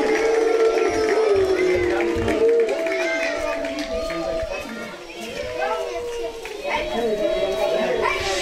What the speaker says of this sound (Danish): Så hvis publikum ellers er klar til at råbe og skrige, må Halilje vide.